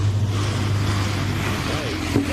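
Engine of an Audi car at a drag racing track in Orlando, a steady low rumble with a faint passing whine near the end, heard close and continuous under background noise.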